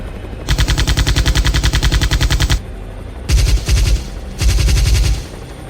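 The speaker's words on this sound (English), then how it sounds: "the air filled with a coordinated volley of shots" A coordinated volley of gunfire from helicopter hunters: one long, loud burst of rapid shots, followed after a short pause by two shorter bursts.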